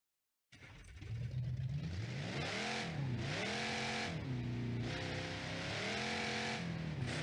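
A Burnside car's engine drives continuously in the BeamNG.Drive game, a loud, close drone whose pitch rises and falls in repeated rev sweeps and gear changes, with no talking over it.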